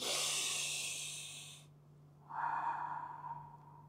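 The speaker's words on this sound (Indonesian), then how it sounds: "Sehari-hari kita menyebutnya menghela napas yang begitu dalam." Slow, deep breathing is shown as a long, airy inhale followed after a short pause by a softer, lower exhale, heard close and alone without speech.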